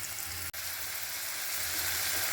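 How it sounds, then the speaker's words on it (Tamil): Onion, tomato and mixed vegetables sauté in a pan for a vegetable curry, giving a steady, even sizzle and crackle throughout with one split-second dropout. No voices are heard. "இப்போ இந்த காயெல்லாம் ஓரளவு நல்லா வதங்கிடுத்து."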